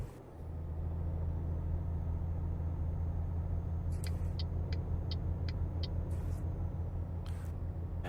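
A heavy truck engine drones steadily in Euro Truck Simulator 2 while overtaking another truck, a constant low rumble with a faint whine and a few short hissing air-brake-like bursts partway through.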